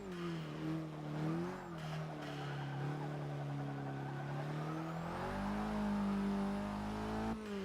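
A Vauxhall Astra engine in Forza Motorsport 6 revs hard through the gears, its tone rising and dropping with shifts, with brief tire squeal as it corners, close and continuous with no voices.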